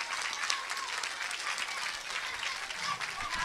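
Sustained applause from a crowd at a school solidarity event, steady dense clapping filling the whole stretch without pause, with faint voices mixed into the background.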